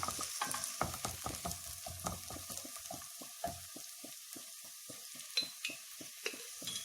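Shallots sautéing in a pan with steady stirring, the spoon clacking and scraping in a quick irregular rhythm over a constant close sizzle, no voices.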